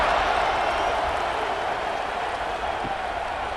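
Stadium crowd in EA Sports College Football 26 roars steadily throughout, a dense, loud, continuous wash of cheering fans that fades slightly toward the end.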